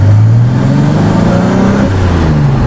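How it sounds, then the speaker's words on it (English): The engine of a Reliant car that has been converted to manual steering runs loud and close with a steady, even drone and a slight change in pitch. "the engine sounds good, there's no knocking or weird noises coming from the suspension"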